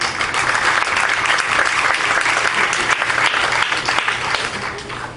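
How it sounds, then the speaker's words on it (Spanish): An audience at a lecture on Hanal Pixan at a campus hall gives a sustained round of applause, dense and steady clapping filling the room for several seconds before tapering slightly. "Por favor, un aplauso para él."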